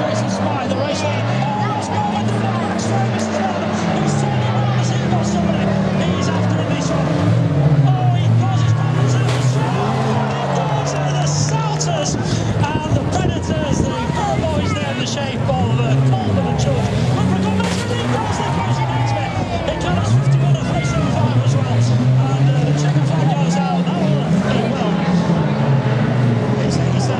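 Siamese banger racing cars lapping a race track, engines droning and revving continuously under loud crowd babble and commentary, a busy, dense roar throughout.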